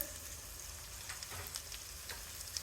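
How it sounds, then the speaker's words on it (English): Onions sizzle in melted butter in a pan, a constant crackling fry with small sharp pops scattered throughout, heard up close and alone. "Okay, so our butter is melted. We're going to glaze the onions now."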